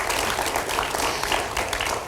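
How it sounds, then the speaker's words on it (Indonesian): Dense applause from an audience at a televised Indonesian special tribute program, steady and moderately loud throughout, with no talk over it. "kita berikan tepuk tangan Bapak Ibu sekalian"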